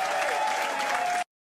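Canned applause sound effect played from the pad of a Maono Caster G1 mini mixer, a dense burst of crowd clapping lasting just over a second before cutting off abruptly.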